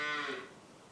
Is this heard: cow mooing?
yes